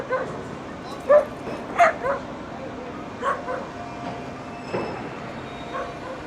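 Several dogs at a dog park in Hoboken, New Jersey, bark in scattered sharp yips and woofs, a few clear barks standing out over background street noise and a rumbling passing train.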